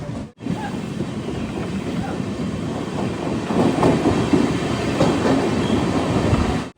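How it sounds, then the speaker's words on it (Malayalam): The Matsyagandha Express pulls out of Bhatkal station, heard from aboard as a steady rumble and rattle of the carriages after a brief dropout at the start, growing louder and more clattering as it gathers pace. "ഇതാ ഇവിടുന്ന് ട്രെയിൻ എടുത്തു"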